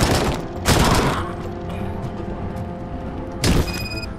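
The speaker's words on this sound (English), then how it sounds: "I mean, is that AK-47?" AK-47 fire rings out in the Robocop: Rogue City video game, two loud close bursts of gunfire separated by a few seconds of echoing, mechanical ambient rumble.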